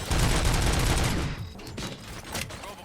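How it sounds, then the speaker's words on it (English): A dense burst of rapid gunfire in RoboCop: Rogue City fills the first second and a half, then scattered sharper shots crack out more sparsely; no voices. "Gunshots? What's going on?"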